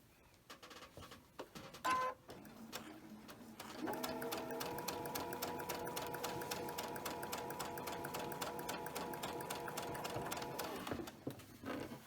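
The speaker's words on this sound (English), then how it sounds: "I'm going to sew right on the side of that line just like I did before." A sewing machine stitches a quilt heart block, running in one fast, even burst of rapid needle clatter for several seconds after a few handling clicks, close and clear with no talking.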